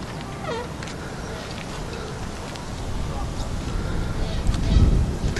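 Canada geese honk at a bird sanctuary, a few calls scattered through steady outdoor background noise and insect-like buzzing, moderately distant and not prominent.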